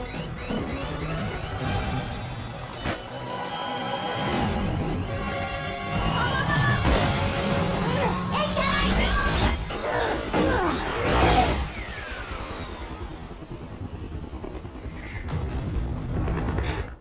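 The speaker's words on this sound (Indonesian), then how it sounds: "tiba-tiba sebuah basoka kembali ditembakkan" A bazooka fires and a rocket explodes during an action scene in Red Notice, a loud booming blast with crashing debris, set over a busy, dense film soundtrack.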